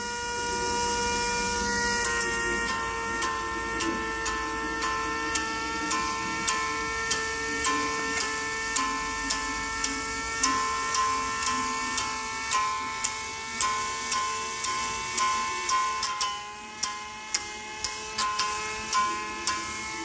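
A melon vine removal machine runs at its top speed setting, a close, loud electric whine with a regular, rapid ticking beat that holds steady for the whole stretch.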